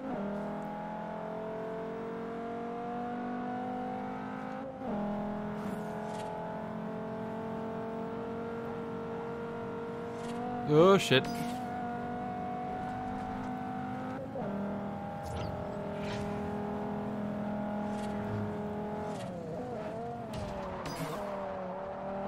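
Audi TT race car engine in the video game Forza Horizon on a street race, droning steadily through repeated gear shifts with rising and dropping revs, a sharp tire squeal or crash midway, and a brief spoken exclamation.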